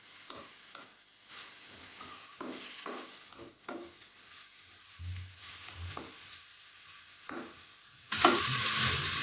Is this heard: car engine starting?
no